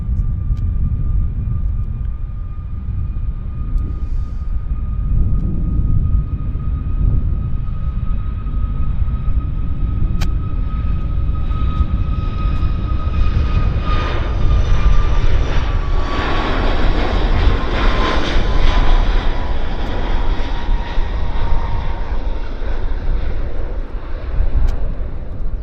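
A fixed-wing airplane takes off at Vancouver Airport, its engines producing a loud, continuous roar with a steady whine that shifts in pitch as it accelerates down the runway.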